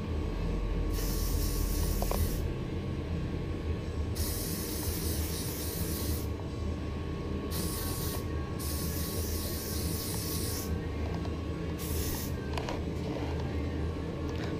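Lacquer sprays onto a vintage Elswick Super Sprint Racer bicycle frame in a steady loud hiss, broken into several bursts of varying length with short pauses, over a constant low background rumble, with no talking.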